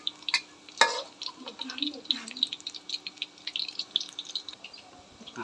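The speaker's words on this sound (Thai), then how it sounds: "เราใช้เวลาทอดประมาณ 3 นาทีนะฮะตอนนี้ไส้กรอกของเราก็ สุกแล้วนะครับผม" Sausages frying in a pan, a light crackling sizzle with scattered pops that runs steadily beneath someone speaking.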